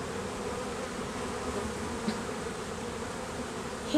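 Honeybees buzzing at a beehive, a continuous even drone of many insects close by, with a faint knock near the end and no talking.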